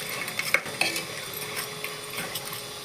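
Jaggery and cardamom are stirred into cooked food in a pot, with close scraping and light clinks of a spoon against the metal over a low, steady background.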